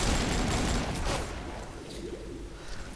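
Gunfire in the AvatarStar video game: a rapid burst of shots in the first second or so, followed by quieter scattered pops and game noise.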